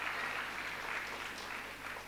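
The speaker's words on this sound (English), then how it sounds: "I think they do deserve a round of applause." Audience applause at a secondary school annual day show, a steady wash of clapping from a large crowd held at an even level throughout, slightly distant and diffuse.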